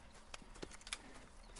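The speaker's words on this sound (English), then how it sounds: "I've been meaning to offload this big Shire horse for a while now." A big Shire horse's hooves clip-clop faintly in Red Dead Redemption 2, a few soft scattered hoofbeats under low ambient noise, no talk.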